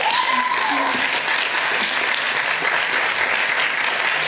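An audience applauds the cast after a French-language school musical, thick continuous clapping from a full hall, with a voice briefly heard over the start.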